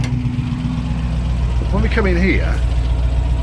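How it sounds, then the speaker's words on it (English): Engine of a 1972 Range Rover idling steadily with a low, constant drone and faint tappet ticking, heard from close by inside while someone talks over it. "you can still hear the engine"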